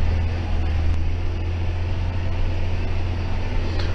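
Tractor engine revving hard while ploughing with auto steer, a steady loud low droning rumble held throughout with no pauses and no voices.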